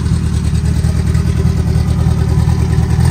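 A turbocharged square-body VW Gol engine with its exhaust open right at the turbo outlet, no muffler, revs loud and close in a steady, rough, throbbing roar.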